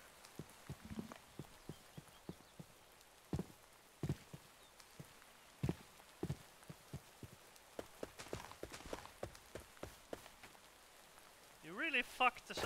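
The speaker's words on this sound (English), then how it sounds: "And why is it raining so much?" Heavy rain patters in a video game, a steady hiss broken by frequent sharp drip-like clicks and taps across the whole stretch, with a brief louder burst near the end.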